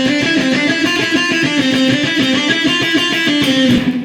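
Electric guitar plays a lick variation that climbs up the scale, a steady run of quick, evenly picked notes, loud and close with no talking.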